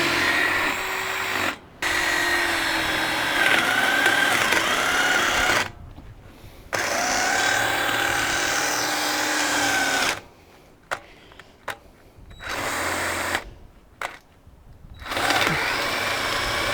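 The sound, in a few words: drill drilling holes for a field drag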